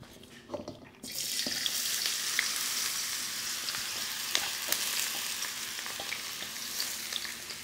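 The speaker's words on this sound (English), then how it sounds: "While you're stir frying, be gentle. Don't break the potato pieces." Potato pieces hit a hot frying pan and start stir frying, a sharp sizzle bursting in after a few utensil clinks, then holding as a steady crackle with occasional taps of stirring.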